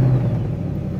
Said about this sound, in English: I'm actually gonna go ahead and start the car.